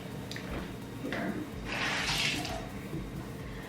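Running water from a tap splashing as skin is wetted for makeup swatches, a close rushing flow that swells in the middle with some background hum.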